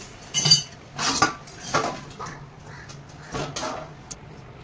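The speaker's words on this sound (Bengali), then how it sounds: "এবার ঢাকনাটা খুলবো আর দেখবো চেক করে ঘুগনিটা মানে মটরটা সিদ্ধ হয়েছে কিনা" A pot lid lifted off boiled peas for ghugni, with several separate metallic clanks and clinks of lid and utensils against the cookware, fairly close, each followed by a quiet pause.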